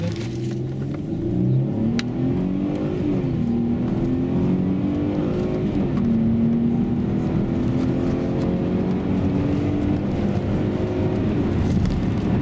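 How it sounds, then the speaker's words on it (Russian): Mercedes-Benz ML350 with a 3.5 V6 running on petrol accelerates from inside the cabin, a steady, loud engine drone with rising and shifting tones through gear changes, continuous for the whole stretch. "Видим прекрасное ускорение автомобиля так на газе, так на бензине."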